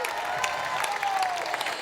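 Concert audience at an outdoor show in Piazza Manzoni, Jesolo, applauding steadily, a dense sustained wash of clapping with some cheering, no pauses.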